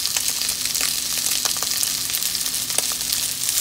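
Onions fry with turmeric in a hot pan, giving a loud, continuous crackling sizzle with scattered pops and no voices over it.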